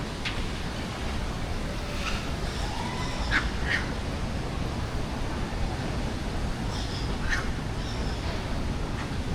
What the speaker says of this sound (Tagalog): Ito may malapit na ibon.